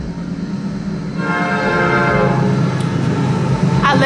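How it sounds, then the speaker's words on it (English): A train passes close by a home, a loud rolling rumble that swells after the first second, with a horn-like tonal blare sounding through and metallic rail squeal near the end. "I live by a train."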